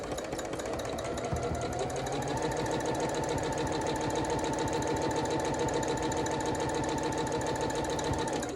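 A misbehaving sewing machine runs continuously up close, a rapid mechanical chatter of needle strokes with a clunky knocking rhythm and a whining motor tone that rises slightly partway through.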